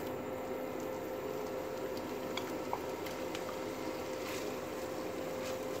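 Lardons cooking in melted butter in a pan for a potage Saint-Germain give a steady, soft frying hiss that continues evenly throughout with no talking.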